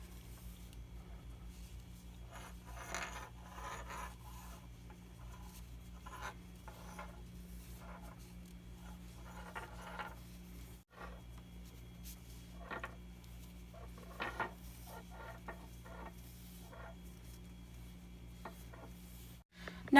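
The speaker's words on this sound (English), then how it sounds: "I am going to start using this long tail cast on method here" Knitting needles from a Clover Takumi interchangeable circular set clicking and rubbing softly as stitches are cast on by the long tail method, a quiet irregular patter of small taps and scrapes over a low steady hum, with no talking.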